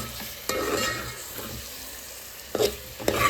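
Chili dropped into a hot pan of oil for baingan bharta, a soft steady sizzle with several sharp crackling bursts and stirring scrapes, heard close and moderately quiet.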